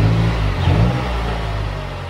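A car engine runs after an EGR delete, holding a steady, fairly loud low rumble with a slight rise in revs early on before settling into an even idle, heard close and with no talking.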